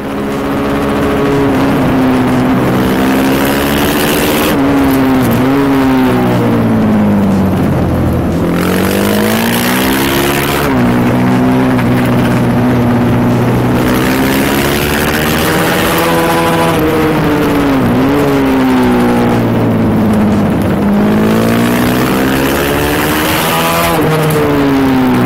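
Husqvarna 450 FS supermoto motorcycle on a track, its engine loud and close as it climbs through repeated rising revs, then drops with sharp downshifts into each corner, over and over with no talk.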